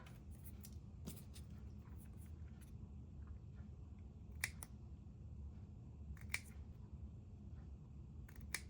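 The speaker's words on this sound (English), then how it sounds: "I'm going to cut my banners by just making a little snip in the middle of my piece" Scissors snip paper banners for a winter craft project, several short, crisp cuts scattered over a faint room hush, close and quiet.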